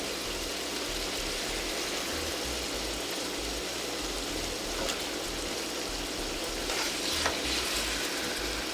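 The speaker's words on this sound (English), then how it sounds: "I'll mix them in a bit and turn my salmon again." Salmon fillet and tomatoes frying in a pan give a steady, dense sizzle with soft stirring underneath, continuous and fairly loud throughout with no voices.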